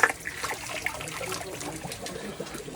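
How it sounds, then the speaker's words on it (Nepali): Water runs from a bathroom tap fed by a heater tank, making a steady, close trickle and splash that continues without pause and with no voices over it. "अहिले चिसो पानी, चिसो यो चाहिँ तातो पानी हो।"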